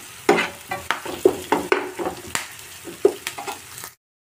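Curry leaves added after turmeric sizzle in hot oil in a frying pan while a spoon stirs them, giving repeated scraping strokes over steady frying hiss that cuts off abruptly near the end.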